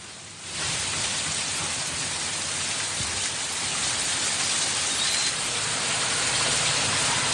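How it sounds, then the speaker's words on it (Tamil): Heavy rain in a region with ongoing showers starts abruptly and then pours as a dense, steady hiss on surfaces, loud and unbroken for the rest of the stretch. "பெரும்பாலான பகுதிகளில் தொடர்ந்து மழை பெய்து வருகிறது"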